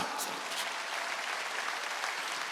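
A church congregation claps steadily throughout a Wednesday worship service, dense and sustained applause without pause.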